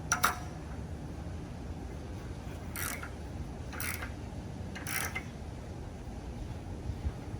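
A wrench tightening the bolts on a ground stand, three evenly spaced ratcheting bursts about a second apart over a steady low background hiss, close and moderately loud with no talking.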